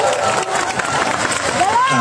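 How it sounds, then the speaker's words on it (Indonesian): An audience at a stand-up comedy show in Gunungsitoli, Nias, clapping and cheering when the comedian asks for it, a short dense burst of crowd applause with whoops rising near the end. "boleh minta tepuk tangannya?"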